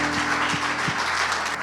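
A church congregation claps and cheers for the Lord during a worship service, with steady crowd noise and a few dull, rhythmic low thumps beneath it.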